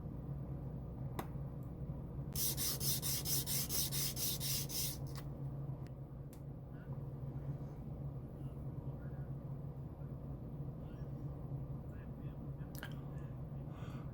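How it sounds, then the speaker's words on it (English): Trimming and filing a part on a Miranda/Hornet refit model, heard as a burst of quick, close rasping strokes followed by scattered faint scrapes and taps over a low steady background hum. "Just give this a little trim right inside here."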